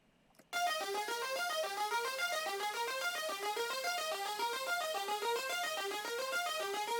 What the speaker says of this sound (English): The pluck's called Overweight.